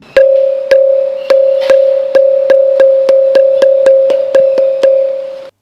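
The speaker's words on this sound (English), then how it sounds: "here is a sound similar to a school bell" A bright, ringing tone like a school bell, struck on a stone pillar over and over at a steady quick pace, about a dozen clear strikes, each ringing on until the next.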